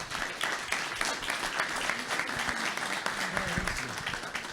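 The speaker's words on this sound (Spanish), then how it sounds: "Un aplauso para ellos." Audience applause at an agricultural panel discussion, a steady dense patter of many hands clapping continuously from start to end, with faint voices mixed in beneath.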